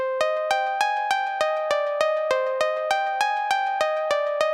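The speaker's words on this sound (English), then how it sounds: "I have this little repeating riff" A synth pluck riff repeats in a steady, even pulse of about a dozen bright, sharply attacked notes with short ringing decays, loud and alone.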